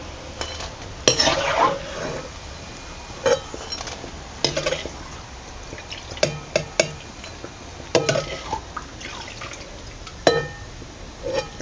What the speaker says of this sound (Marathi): तर चाळणीतच काढून घ्यायचं, चांगलंसं तेल नितळला जातो